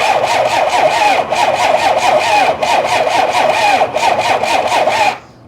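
A 1993 Dodge Ram Cummins diesel, abandoned for 18 years, cranks on a high-amp charger with a loud, rhythmic starter churn pulsing about twice a second, then cuts off abruptly into near silence.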